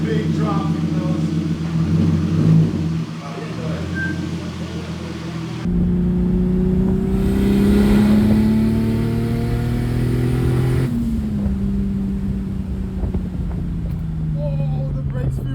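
Turbo M50-swapped BMW E30, around 500 whp, pulling through gears on a drive, engine tone rising in long sweeps with abrupt shifts, steady and close, with brief speech-like sounds over it.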